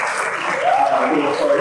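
Crowd applause at a magic show opening act, a dense, steady wash of clapping throughout with a voice running faintly beneath it.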